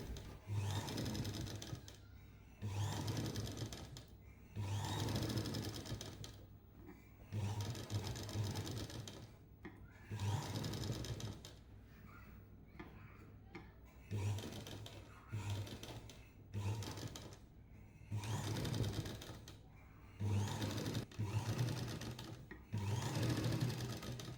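Sewing machine stitching the lining along an Aari blouse neckline, running in steady repeated bursts of fast mechanical whirring with short pauses between them, close and continuous, no speech.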